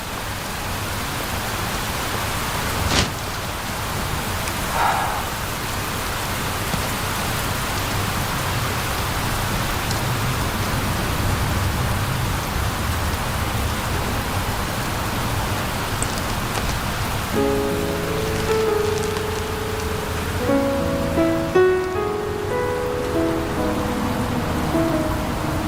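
Steady rain falls across the whole stretch as a dense, even hiss, with a few louder drips and some faint tonal sounds near the end.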